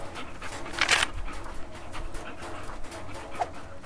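A dog pants steadily in quick, breathy rhythm at close range, with a brief sharper burst early on, and no voices are heard over it.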